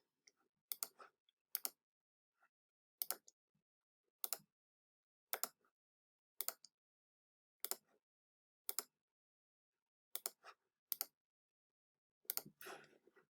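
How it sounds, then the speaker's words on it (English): A computer mouse clicks sharply and close up while someone answers an online quiz, about a dozen isolated clicks, often in quick double pairs, spaced by quiet gaps of roughly a second. "Just going to start clicking."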